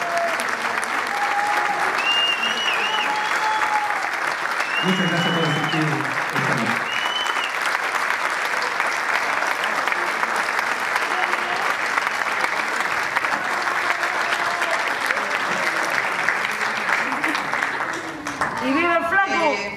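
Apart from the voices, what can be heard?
audience applause in theatre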